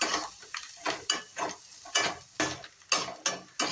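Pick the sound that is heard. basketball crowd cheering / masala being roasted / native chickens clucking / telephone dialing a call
masala being roasted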